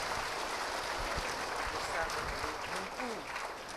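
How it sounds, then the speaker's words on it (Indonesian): An audience claps for a Buddhist monk at a talk on building wisdom for life, a steady wash of applause filling the room, with a voice speaking over it toward the end. "Kita beri tepuk tangan untuk Bante ya."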